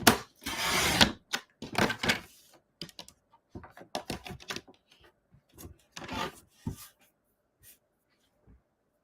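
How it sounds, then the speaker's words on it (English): White cardstock being trimmed for a paper-pieced zinnia card, heard as close, irregular bursts of cutting and paper handling with quiet pauses between them. "this side needs to be trimmed up too, because there's white cardstock showing."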